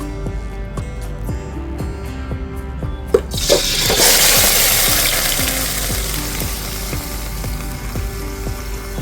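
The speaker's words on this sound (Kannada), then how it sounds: "ನಾವೀಗ ಚಿಕನ್ ಒಂದ್ ಸ್ವಲ್ಪ ಆಯಿಲ್ ಅಲ್ಲಿ ಫ್ರೈ ಮಾಡ್ಕೊಳ್ಳೋಣ" Chicken fries in oil in a pot over a wood-fired stove, crackling and sizzling loudly and continuously. The hiss swells sharply partway through as the pieces hit the hot oil, and no one speaks.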